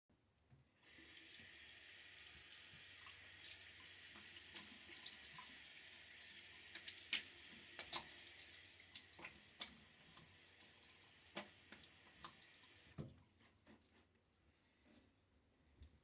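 A bathroom tap runs continuously into a sink for rinsing after a wet shave, a steady close hiss with splashes and small knocks, then shut off near the end.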